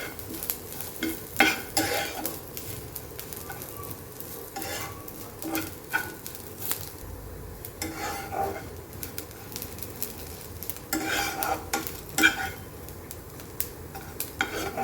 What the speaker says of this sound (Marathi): छान सोनेरी रंग येईपर्यंत भाजून घेऊया.